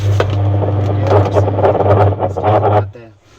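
A washing machine with a faulty gearbox drones loudly with a low hum while harsh grinding and rattling bursts repeat irregularly, close by, before it winds down.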